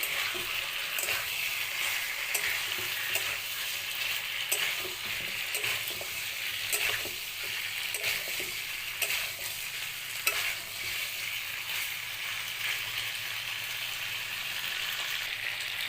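Chicken frying in a pan as ginger, garlic and green chilli paste and cumin paste are stirred in, a steady close sizzle with scraping stir strokes throughout, no voices.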